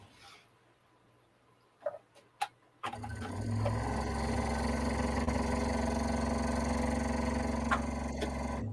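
After a few faint clicks in near silence, a sewing machine starts up and runs continuously with a steady, buzzing mechanical hum.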